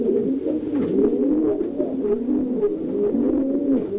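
A racing pigeon cock coos steadily in a loft, a continuous low burbling rhythm close by with other pigeons murmuring and no talk.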